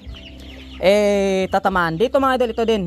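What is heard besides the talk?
rooster clucking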